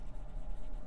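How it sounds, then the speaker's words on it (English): A YStudio resin fountain pen writing on paper, a soft continuous close scratching of the nib across the page with no talking. "I really love the way that this pen writes."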